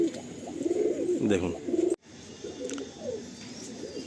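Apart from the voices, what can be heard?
Giribaj pigeons cooing in a pigeon loft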